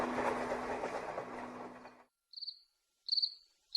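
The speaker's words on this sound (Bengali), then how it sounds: "ট্রেন চলেছে যেন ঢিকির ঢিকির করে" Train-running sound effect in a Bengali audio story: a steady rumbling rattle of a moving train for about two seconds, then it cuts off, leaving quiet with a few short bursts of cricket chirping.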